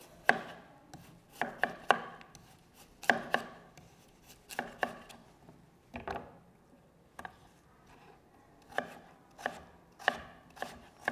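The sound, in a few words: chopping potato into small pieces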